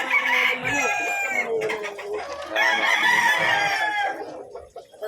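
Several roosters crow in overlapping, drawn-out calls at a busy pet market in Malabon, loud and close, with clucking from other fowl filling the gaps between crows.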